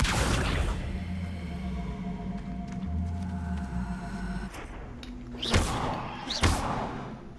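Spell effects cast in Hogwarts Legacy, a low magical hum and rumble that holds for several seconds before fading, then two sharp whooshing bursts with thuds near the end.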